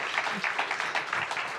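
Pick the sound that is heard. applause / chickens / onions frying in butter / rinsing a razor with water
applause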